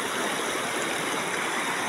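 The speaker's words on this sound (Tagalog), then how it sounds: "Ang tubig dito ay sobrang lakas. At kaya kanyang ihampas sa bato." Strong river water rushing hard against rocks, a loud, continuous roar of churning water close by with no talk.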